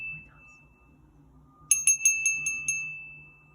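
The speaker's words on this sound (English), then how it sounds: "Should we ring my bell?" A small hand bell rung in a quick burst of about six bright strikes that ring out over a low background hum, following a quiet stretch with a steady electronic tone.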